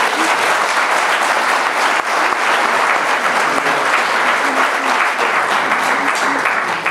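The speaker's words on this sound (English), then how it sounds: "a big round of applause" Sustained applause from a large audience at a national spelling bee, dense steady clapping at full loudness for several seconds with a faint murmur of voices beneath.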